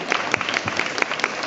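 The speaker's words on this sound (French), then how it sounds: "Vous pouvez l'applaudir s'il vous plaît" Brief applause from a crowd at a chocolate fair in Toulouse, a short burst of scattered, moderately loud clapping heard on its own.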